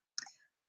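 A single soft click from one key pressed on a computer keyboard, short, close and quiet, with silence around it and no talk.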